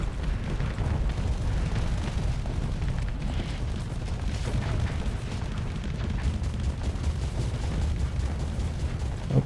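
Missile launches and explosions in a space combat video game, with a dense, continuous low rumble of blasts and booms running steadily throughout.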